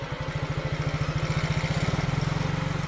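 A small motorcycle engine runs with a steady, rapid low putter, close and moderately loud, its pulsing rhythm quickening slightly toward the end with no talk over it.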